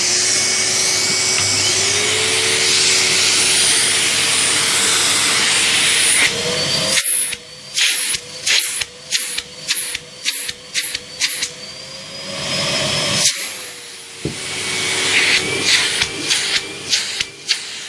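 A Numatic Henry HVR200 vacuum cleaner runs on its high setting with a loud, steady motor whine and airy hiss, then the suction is repeatedly blocked and released, giving a rapid series of choppy pulses before the drone steadies again.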